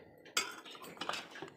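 A spoon clinks and scrapes against a pan while mixing spices such as garam masala, red chili, Kashmiri chili and coriander for veg Manchurian, with a sharp clatter followed by soft, irregular stirring scrapes, close and fairly quiet.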